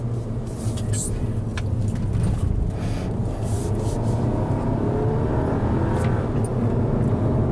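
2016 Audi A3 1.8T with a DSG gearbox driving, a steady interior engine and road drone with subtle rises and dips through gear shifts, someone talking over it throughout.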